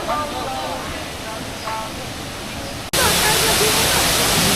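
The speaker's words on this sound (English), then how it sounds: "This here is the secondary waterfall." The secondary waterfall in Guangxi, China, on the China–Vietnam border, gives a steady broadband roar of falling water that swells abruptly louder partway through, with no talking.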